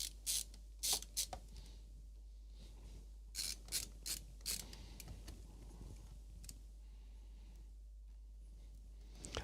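Small plastic and metal parts of an IBM PS/2 drive mechanism clicking and ratcheting as it is fitted back together, a quick cluster of sharp clicks, then a pause, then more, close and quiet over a low hum.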